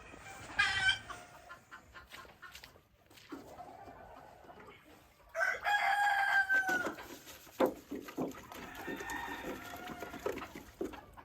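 Chickens cluck and a rooster crows on a backwoods homestead during morning chores, with loud crows and bursts of clucking spread across the stretch, some close and some farther off, and no talk.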